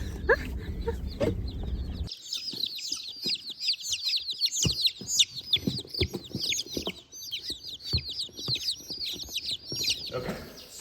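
A box of about two dozen newly arrived mail-order baby chicks at a Georgia homestead, a dense chorus of high shrill peeping that starts abruptly and carries on continuously up close, with low handling noises and murmuring voices beneath.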